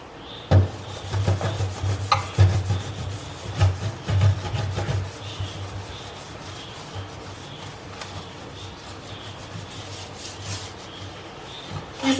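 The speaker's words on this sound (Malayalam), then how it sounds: "ഈ റഫായിട്ടുള്ള പാർട്ട് ഉപയോഗിച്ച് വേണം നമുക്ക് ഉരച്ച് കഴുകാനായിട്ട്." Rough side of a kitchen scrubber rubbed hard across a kitchen sink, giving steady close scraping strokes, louder and choppier at first then settling into quieter continuous scrubbing.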